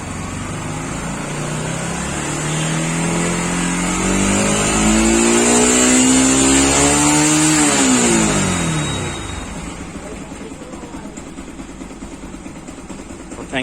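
A Yamaha R15 motorcycle engine, just back from an armature and magnet coil repair, revs up loud and close, climbing steadily in pitch for several seconds, then dropping back to a steady idle.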